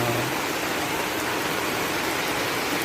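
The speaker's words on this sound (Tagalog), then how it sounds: "Ang lakas ng ulan." Heavy rain pours down on an umbrella in a dense, steady hiss, drumming continuously close by with no voices.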